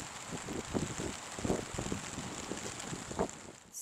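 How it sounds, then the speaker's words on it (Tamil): Rain falls outdoors in a steady, soft patter with scattered brief drop taps and a faint wind hiss underneath, fairly quiet and close. "எப்போ வீடியோ எடுத்தாலும் மழை வருது"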